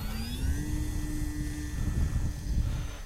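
Arrows Hobby Bigfoot RC airplane taking off with flaps down in light wind, its electric motor giving a steady high whine that rises in pitch early on and holds, with wind rumble underneath and no talking.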